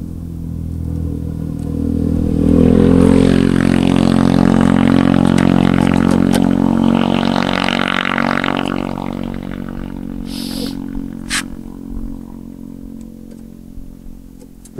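A motorcycle engine runs loudly and steadily, with a rattling clatter from underneath riding over the mechanical drone before it gradually quiets toward the end.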